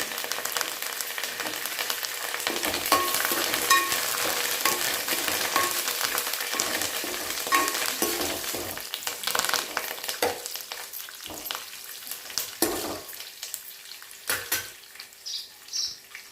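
Hot oil tempering sizzles loudly and continuously in a pan while being stirred with curry leaves, with occasional scraping and tapping of a utensil nearby.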